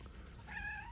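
A cat gives a single short, close meow near the end, rising then falling, after a moment of quiet ambient noise at a farm breeding barn.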